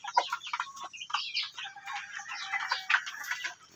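Native chickens near a brooding hen cluck and chatter up close in a continuous busy stream of short calls, moderately loud with no talk.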